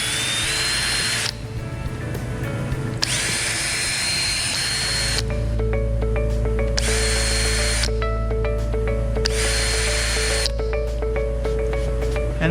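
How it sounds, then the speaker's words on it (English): A power drill with a 1/8 inch bit drilling plastic for a tab repair whines in several bursts of a few seconds each, separated by short pauses, loud and close over a steady low hum. "just take an 1/8 inch drill"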